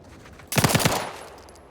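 A rapid burst of automatic gunfire in The Outer Worlds 2, about five quick loud shots in a tight rhythm that ring briefly and then fade, with no speech.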